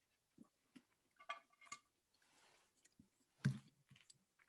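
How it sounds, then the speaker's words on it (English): Quiet, close chewing and biting of hamantaschen pastries, soft irregular clicks and mouth sounds with a few sharper taps like dishes or cutlery, in an otherwise hushed room. "while we're chewing."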